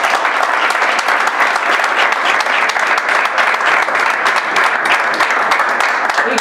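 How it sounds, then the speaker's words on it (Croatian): A room of junior footballers and staff at FK Željezničar applauds a visiting player, loud close dense clapping held evenly throughout without pause. "ja vjerujem aplauzom da nagradimo Rikija"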